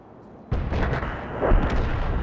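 Artillery fire in the tank battle game World of Tanks: a sudden loud boom opens a thick, rumbling barrage of blasts that stays dense and close for the rest of the stretch, with no talking.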